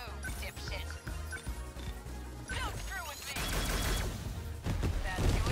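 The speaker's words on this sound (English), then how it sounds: "I'm gonna use her cannon, or whatever the hell it is," Cannon fire and explosive impacts from the video game 13 Sentinels: Aegis Rim, a rapid run of booming shots and crashing blasts that grows denser and louder toward the end, mixed with game music.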